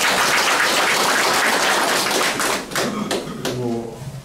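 Applause from a gathered audience at a Korean local community event honouring a committee chairman: dense, loud clapping for about two and a half seconds, then thinning into scattered claps as a voice begins speaking.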